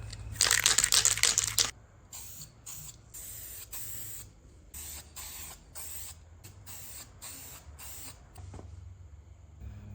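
Brake cleaner sprays in a loud hissing burst onto the intake manifold of a Holden 5L engine, followed by rhythmic rubbing and wiping noises at close range.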